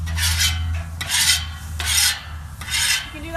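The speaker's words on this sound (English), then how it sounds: "So first, you want to just scrape everything off." A metal spatula scrapes food residue off a heavy-duty steel flat top griddle in four long, loud rasping strokes with brief pauses between, over a steady low hum.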